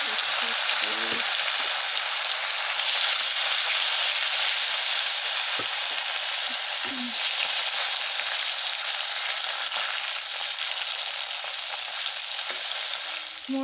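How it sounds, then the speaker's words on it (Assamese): Fish frying in a pan in a home kitchen, a continuous crackling sizzle with occasional faint stirring clinks and soft knocks, close and steady. "এতিয়া ভাজি আছোঁ মাছ"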